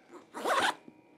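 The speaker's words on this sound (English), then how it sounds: "So you can unzip from the side to get to the side access zips" A single short zipper pull on the side access zip of a GORUCK 18L Double Compartment Bullet Ruck backpack, close and clear, lasting under half a second in a quiet room.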